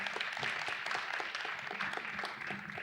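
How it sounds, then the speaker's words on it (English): A conference audience applauds the esteemed guests at a cannabis industry event, with dense, continuous clapping that stays steady and fairly loud throughout. "give it a round of applause for all of our esteemed guests"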